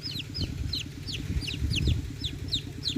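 Chickens cluck repeatedly at close range, a busy, steady chatter of short calls from several birds with no talking.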